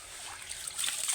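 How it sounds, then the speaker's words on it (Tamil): Water is poured over rice soaking in a container, a soft, close trickle and light splashing that grows slightly louder and brighter toward the end, with no talking. "இது 4வது ட்ரிப்பு தண்ணி ஊற்றி வைக்கிறேன்."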